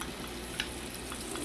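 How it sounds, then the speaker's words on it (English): Garlic sizzling in a hot cast iron skillet, a faint, steady crackling fry with no voices. "To this cast iron skillet, I'm gonna add the garlic."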